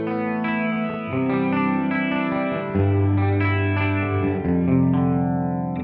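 Clean electric guitar run through a harmoniser pedal's detune effect on its shallow preset, playing a steady sequence of chordal notes with a shimmering, chorus-like doubling, loud and continuous, with no talk.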